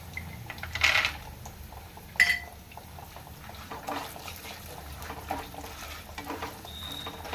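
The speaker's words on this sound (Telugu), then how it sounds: "ఒక 1 మినిట్ వేగితే పల్లీలు కూడా వేగుతున్నాయి కదండి" Peanuts fry with dried red chillies and fenugreek seeds in a little oil, a soft steady crackle with a few sharper clinks of a spoon against the pan, close and fairly quiet.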